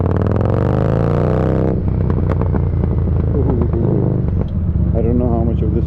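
A Harley-Davidson Street Rod motorcycle being ridden, its engine rumbling steadily and loudly up close throughout, with clattering mechanical noise and a spoken voice over it.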